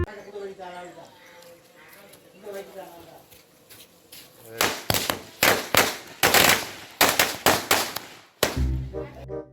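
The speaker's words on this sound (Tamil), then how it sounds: "இதெல்லாம் வந்து பாருங்கள் பட்டாசுலாம் வெடிக்கிறானுங்க" Diwali firecrackers burst in a rapid series of loud, sharp cracks, starting after a stretch of quieter background chatter and continuing in a dense volley with a final heavy bang near the end; voices are heard underneath.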